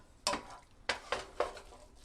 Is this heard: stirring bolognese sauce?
yes